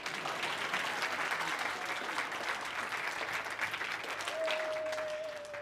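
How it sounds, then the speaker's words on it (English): A children's audience in a rotunda breaks into sustained, dense applause at a yo-yo show, with a faint whistle-like tone rising near the end. "Applause point."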